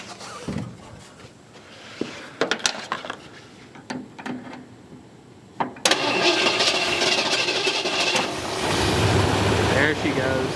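A 1977 Ford 4x4 truck, fed gas down the carburetor after sitting for twenty years, cranks in several short bursts, then catches and runs at a steady loud idle, with brief talk nearby.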